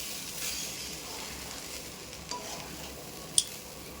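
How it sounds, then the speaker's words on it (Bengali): Rice for Bengali basanti pulao stirred in a pan, a soft continuous scraping and rustle with a faint sizzle underneath, broken by a few sharp clicks of the utensil near the end, no talk. "তো আরেকটু আমি ভালো করে নাড়িয়ে চাড়িয়ে নিচ্ছি।"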